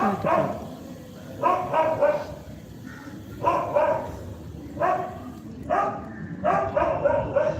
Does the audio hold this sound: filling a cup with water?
no